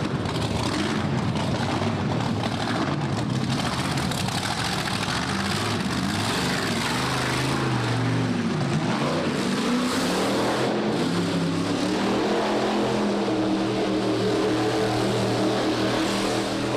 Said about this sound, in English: Kevin, start your engine.